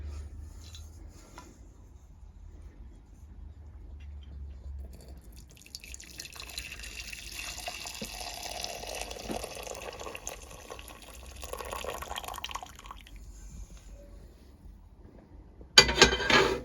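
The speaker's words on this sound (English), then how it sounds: "I'm going to pour the liquid into the jug and then into the jars." Hot blackberry liquid being poured from a pan into a jug and then into hot sterilised jars, a soft trickling, dripping pour that builds through the middle and ends in a brief louder splash.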